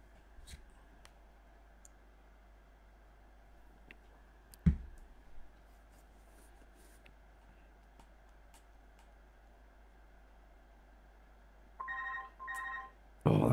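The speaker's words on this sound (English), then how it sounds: "Oh, that's the phone." A telephone rings in a quiet room at home, two short ringing bursts near the end, moderately loud against a faint steady background hum, with a sharp click earlier.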